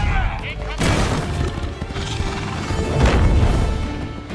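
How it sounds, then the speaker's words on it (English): Stormtroopers open fire in a Star Wars Ahsoka episode, with booming blasts and crashing impacts in a dense, loud battle mix, two heavier bursts standing out amid constant rumbling. "Right before the stormtroopers open fire"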